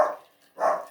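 Two loud, close dog barks, separated by a brief pause.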